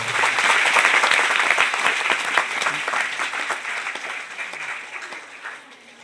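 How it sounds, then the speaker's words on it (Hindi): Loud applause from an audience at a health gathering, a thick wash of clapping that starts strong and gradually tapers and thins out toward the end. "एक बार बाहर वालों के लिए जोरदार ताली बजाइए।"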